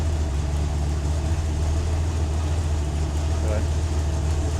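A built Ford 302ci V8 fitted with catalytic converters idles in a garage, a steady low rumbling drone that holds even from start to finish.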